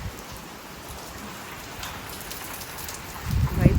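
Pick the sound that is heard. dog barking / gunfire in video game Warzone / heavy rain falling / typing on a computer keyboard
heavy rain falling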